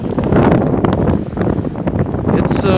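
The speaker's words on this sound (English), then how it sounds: "It's quite windy," Strong wind during the 2016 blizzard on Mapleville Road outside Liberty Town, a loud buffeting rumble of gusts against the microphone, continuous and close with rapid fluctuations.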